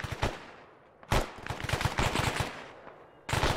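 Bursts of simulated automatic machine-gun fire from the military video game Arma, with rapid rattling volleys separated by short pauses, loud and close.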